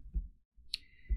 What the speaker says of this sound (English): Typing it into my calculator